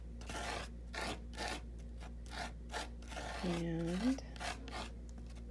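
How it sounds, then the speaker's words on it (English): A palette knife spreads Nuvo modeling paste over a stencil, making soft, repeated scraping strokes at low volume, with a voice speaking briefly. "So I'm gonna just take a little bit on the back of my palette knife"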